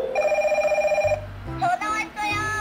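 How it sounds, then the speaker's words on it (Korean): A toy telephone rings with a rapid trilling electronic bell that stops after about a second, and a voice follows close by. "전화 왔어요."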